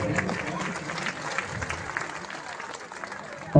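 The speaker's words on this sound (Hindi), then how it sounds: "इनके स्वागत के लिए सभी तालियों से स्वागत करेंगे" Audience at a Ram Katha religious discourse applauding to welcome guests, a steady, fairly close wash of many hands clapping through the whole stretch, with a brief louder thump right at the end.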